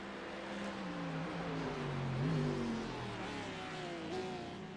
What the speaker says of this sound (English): you can hear the hilariously different sounds of these engines too